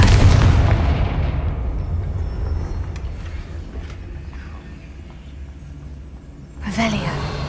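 A loud, booming Confringo explosive spell blasts in Hogwarts Legacy and rumbles away over several seconds. A second burst strikes near the end, and a voice can be heard in the mix.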